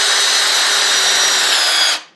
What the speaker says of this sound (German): bohre ich jetzt da mit einem 5 mm Bohrer einfach durch auf der anderen Seite